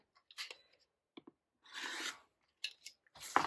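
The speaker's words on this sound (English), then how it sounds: "we're going to take and cut any excess that is past that 1/4 of an inch on both sides" Scissors trimming excess paper and fabric on a paper-pieced quilt block, heard as several short, close snips and rasping cuts in separate bursts with quiet gaps between them.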